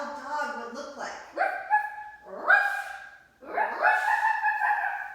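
Children imitate dogs barking during a yoga storytime at a library, voicing a series of loud, overlapping yelps and woofs in several bursts with short pauses between them.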